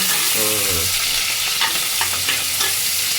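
Onions frying in hot oil give a loud, constant hiss with a faint crackle on top, while someone speaks briefly over it in the background.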